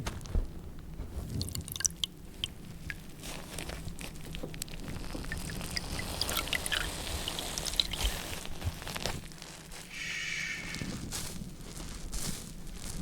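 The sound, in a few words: Scrub Daddy sponge scratching with soapy water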